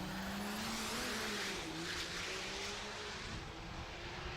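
Diesel trucks drag racing on a mountain strip, a faint, distant, sustained engine roar with a slowly shifting pitch, heard alone.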